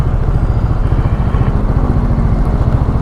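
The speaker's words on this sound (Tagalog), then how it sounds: "Papatuno niya yung motor niya." A Rusi motorcycle's engine idles close by during carburetor tuning, giving a loud, steady, rhythmic putter that runs throughout with no talking.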